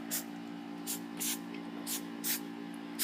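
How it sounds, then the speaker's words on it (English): Hairspray is spritzed over curled hair in short bursts, about six quick hissing puffs, close and clear, over a steady low hum in the room. "Just a little hairspray over there to keep that nice and tight."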